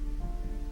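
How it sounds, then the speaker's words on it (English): Soft rain drizzle patters steadily and faintly on surfaces, a brief even wash of sound with no voices. "The rain eased another degree, thinning into a velvety drizzle that brushed every surface"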